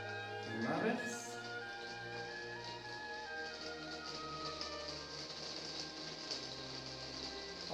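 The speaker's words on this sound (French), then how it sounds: "ce que vous entendez, c'est la pluie" Rain falls steadily outdoors in Normandy, a continuous soft patter heard under a sustained tonal drone, with a brief louder burst near the start.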